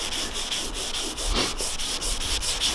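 Rhythmic wet sanding strokes rasp back and forth on the painted trunk lid of a 1990 Mazda Miata, a steady scrubbing pattern of close, even passes with no talking.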